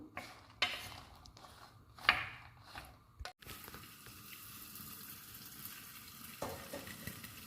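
Ivy gourd pieces and green chillies frying in a pan: a quiet, steady sizzle with a few spoon scrapes and clinks, heard fairly close but faint.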